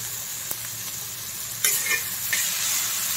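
A green chilli thecha mixture is sautéed in a pan for a Maharashtrian chutney, a constant close sizzle with a sharper burst of scraping and crackle partway through as the mixture is stirred.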